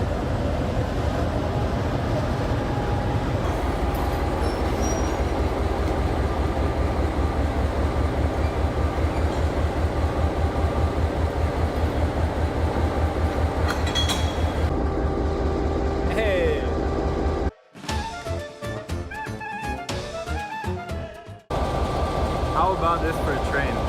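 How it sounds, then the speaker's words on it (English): An old Yugoslav passenger train between Skopje and Prilep runs along the rails with a steady close rumble and rhythmic wheel clatter, briefly dropping to a quieter interior hum before the loud running noise returns. "This must be a Yugoslav train."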